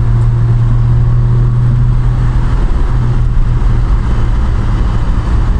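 A 1967 Triumph Vitesse 2-litre car drives along, its engine a steady, loud, low hum heard from inside the car.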